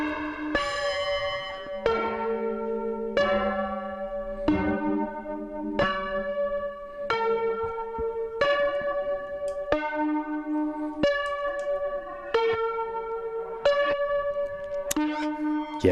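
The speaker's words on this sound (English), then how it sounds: "just a simple, crazy reverb for my synth voice." A synth voice played through a Qu-Bit Aurora spectral reverb in reverse mode, sounding as a slow sequence of bell-like tones about every second and a half, each swelling with smeared, backward reverb tails and shimmering harmonics.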